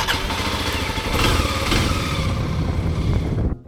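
A Kawasaki KLX 250 off-road motorcycle engine runs close up with a steady buzzing drone, briefly swelling with a throttle rise before cutting off at the end.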